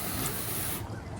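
A garden hose sprays water in a brief, steady rushing hiss that drops away sharply near the end.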